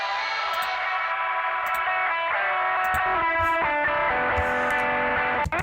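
A sustained electric guitar line plays alone without effects, with bright, buzzy sustained notes and shifting pitches, followed by a short rattling strum at the end.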